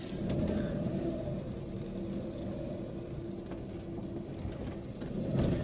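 A car rolls slowly over a badly broken, potholed road, a steady loud low rumble and engine drone with occasional thumps, close by and without talk.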